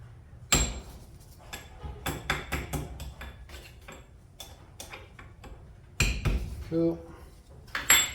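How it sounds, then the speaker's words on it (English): Metal-on-metal hammer taps knocking circlips into a Toyota Hilux drive shaft universal joint, a series of sharp strikes of varying loudness in a workshop, with a louder burst near the start and more strikes toward the end. "we'll knock the circlips in"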